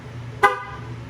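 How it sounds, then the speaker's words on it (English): Jeep Gladiator horn sounding once from a key fob, a single short sharp honk over a low steady background hum, heard at moderate distance. "We should hear the horn honk."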